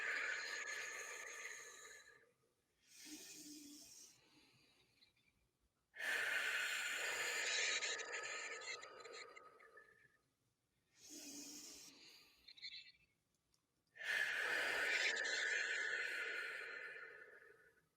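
Slow, deep breathwork breaths alternate between long inhales and exhales, each swelling to a loud, close airy rush before fading, with short pauses between them.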